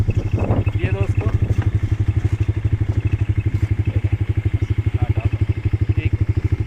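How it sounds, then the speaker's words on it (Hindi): An off-road motorcycle built for rough desert trails idles close by with a steady, loud, fast-pulsing thump that lasts throughout, while someone talks over it near the start. "ये ऑफ रोडिंग करने वाली बाइक"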